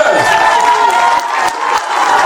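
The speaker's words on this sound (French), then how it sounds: "On l'applaudit, mesdames et messieurs" An audience at a 50th birthday celebration in Corbeil-Essonnes applauds the couple's eldest daughter, a short burst of crowd clapping and cheering mixed with voices.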